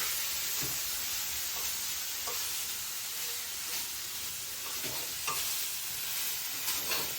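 Ginger and garlic frying on a low flame hiss in a steady, even sizzle, with occasional soft scrapes and clicks of stirring and no talking.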